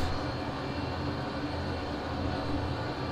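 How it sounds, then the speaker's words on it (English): Simulated airliner taxiing out in a flight simulator game, a steady broadband engine rumble and hiss at constant level throughout, no talk over it. "Alrighty guys, let's taxi out."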